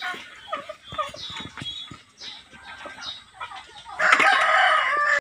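Broiler chickens cluck and squawk at feeding time on a farm, with overlapping calls and a rooster-like crow, growing to a loud, dense burst of flock noise near the end.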